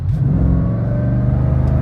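A car billed as the world's fastest accelerates hard from a standing launch, its engine note loud and close, a dense rising roar that holds strong throughout the brief burst.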